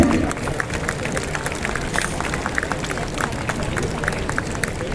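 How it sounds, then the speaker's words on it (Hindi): An audience gives loud applause to welcome the sarod maestro Ustad Amjad Ali Khan and his sons Ayaan Ali Bangash and Amaan Ali Bangash, a dense, sustained crackle of many hands clapping at steady volume throughout. "जोरदार तालियों के साथ स्वागत।"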